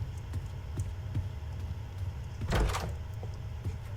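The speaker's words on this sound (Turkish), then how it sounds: "Kapı sesleri değişmiş ya güzel olmuş aslında." Doors opening in the Roblox game Doors, with a soft low rumble and a sudden louder creaking swing near the middle over a quiet background hum.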